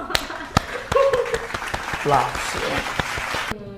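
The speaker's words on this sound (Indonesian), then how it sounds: "Applause." Audience clapping at a student event in Indonesia, a steady patter of applause lasting a few seconds with voices talking over it.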